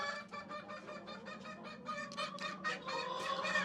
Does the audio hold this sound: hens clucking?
yes